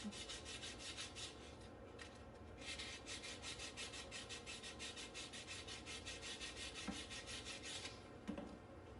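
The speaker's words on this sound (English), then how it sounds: "do a little sanding on it, make sure it's nice and smooth." Steady rhythmic rubbing of an abrasive sanding block against a ring made from a Czech 2 koruna coin, close and continuous, with a few light taps near the end.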